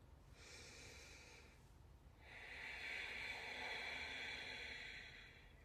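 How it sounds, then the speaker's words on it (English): Deep, slow breathing close to the microphone: a short airy inhale followed by a longer, fuller breath that swells and fades over several seconds, soft and hissy with no talk. "just sit down and take a deep breath with me"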